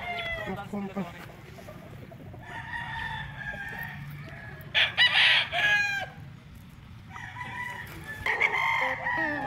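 Gamefowl roosters of the Sweater and Raptor Sweater bloodlines crow loudly nearby at a breeding farm in Tagaytay, with several overlapping calls and clucks while someone talks throughout.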